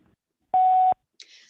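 Answering-machine voicemail beep: a single clean electronic tone lasting about half a second, loud and isolated against silence, followed by a faint voice starting.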